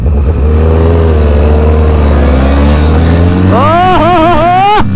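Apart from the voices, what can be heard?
Suzuki Hayabusa motorcycle racing and accelerating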